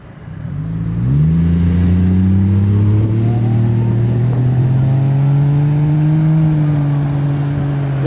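A right-hand-drive JDM Toyota Soarer leaves a car show in Dallas, its engine swelling up close, then holding a loud steady drone as it pulls away.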